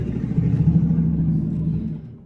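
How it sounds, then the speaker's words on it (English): A loud truck rumbles past close by, a deep, steady engine drone that fades out at the end, heard on its own with no talking. "loud truck"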